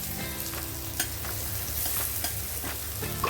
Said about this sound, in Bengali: দিয়ে ভালো করে মশলাটা কষিয়ে নেব